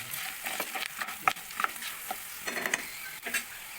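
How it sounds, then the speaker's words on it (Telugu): A spoon stirs fried ingredients with turmeric in a pan for temple-style prasadam, soft scraping and clinking strokes in an irregular rhythm over a gentle sizzle, close and fairly quiet. "ఇప్పుడు దీంట్లో పసుపు వేసుకుందాం. ఒకసారి దీన్ని కలుపుకుంటున్నాను."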